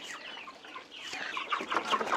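Meat chickens of several breeds, including red ones and naked-neck birds, cluck and chatter in a farm pen. Overlapping calls come near and moderately loud, and they grow busier toward the end.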